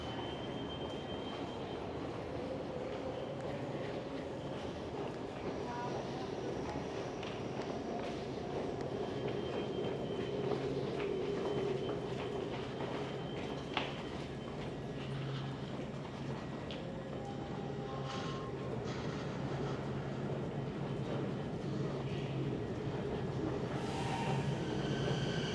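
A Vancouver SkyTrain sits in the station, its steady low rumble and whirring hum filling the space continuously, with faint metallic squeals and clicks rising near the end.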